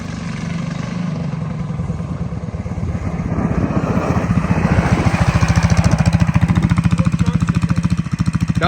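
A Big Block Baja Warrior mini bike engine idles roughly, then revs up into a loud, fast, pulsing chug that holds steady up close.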